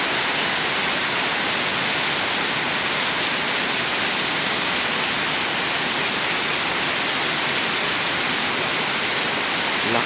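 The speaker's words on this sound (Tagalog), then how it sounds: "Lakas ng ulan ito." Heavy rain pouring down in a loud, dense, unbroken hiss that fills the whole stretch without pause, close and constant with no voices.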